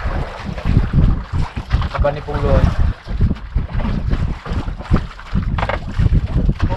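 A boat engine drones steadily beneath heavy wind buffeting and rushing water on a handline fishing trip off Occidental Mindoro, with people talking briefly over the noise.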